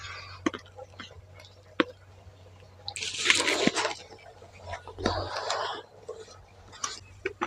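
Hot water is poured a little at a time into salted pitha dough, giving two short splashy gushes over quiet kitchen clatter with a few faint taps.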